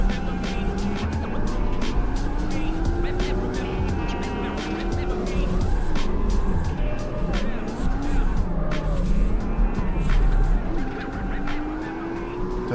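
Tires squeal and engine revs rise and fall as a car drifts without the handbrake, held on momentum alone, in the CarX Street driving game, with a voice talking over the loud, continuous screeching.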